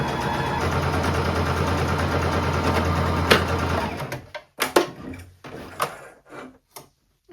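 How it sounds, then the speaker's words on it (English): A sewing machine runs a straight stitch down the side seams of a top made from a thrifted skirt, humming steadily for about four seconds before stopping, followed by scattered clicks and fabric handling. "I'm going to sew a straight stitch down each side here"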